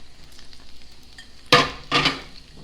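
Vegetables return to a skillet holding meatloaf, a quiet low hiss followed by two sharp bursts of sizzling and clattering as they land and get stirred.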